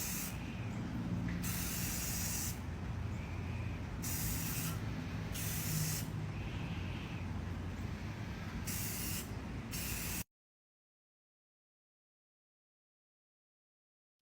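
Rust-Oleum Ultra Cover Paint and Primer in Aqua Satin sprayed onto a guitar body from an aerosol can: several steady hissing bursts of spray, close and loud, separated by short pauses, with no talking.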